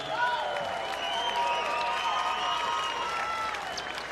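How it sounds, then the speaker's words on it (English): Arena crowd at an MMA Hawaii event applauds and cheers after a fight, a steady wash of clapping with whistles and shouts, fairly distant and continuous throughout. "Ladies and gentlemen, another round of applause for these two warriors."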